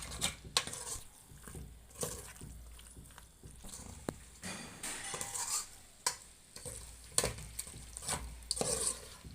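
Pork being stirred into jungle curry paste in a pot, with repeated scraping and clanking strokes of a utensil against metal over a soft sizzle, close and fairly quiet.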